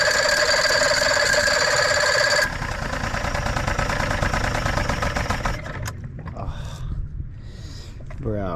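A yacht engine idling: a loud, steady mechanical drone with a humming tone that eases somewhat partway through, then carries on more quietly beneath brief voices near the end.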